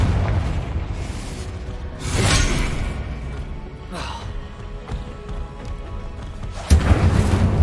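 Confringo explosive spells blasting in Hogwarts Legacy: several booming bursts with whooshing tails spaced a couple of seconds apart, the last hitting hardest, over a steady background of game rumble and combat noise.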